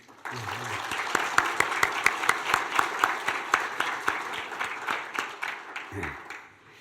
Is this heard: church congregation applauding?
yes